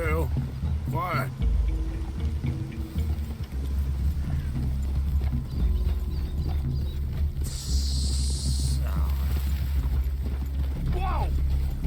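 Horse hooves clopping on the ground in Red Dead Redemption 2 as riders near a clearing by a cabin, a rhythmic trot under game music and voices talking, with a brief whinny-like sound early on.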